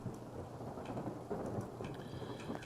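Thunderstorm over an outdoor construction site, with a steady wash of rain and low rumbling thunder rolling through, plus scattered raindrop patter, and no one speaking.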